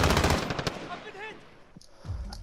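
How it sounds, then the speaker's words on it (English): Automatic gunfire rattles in rapid bursts in Call of Duty Warzone, loud and close at the start, then fading to sparser shots and game effects before another burst near the end. "I was shooting like back and forth"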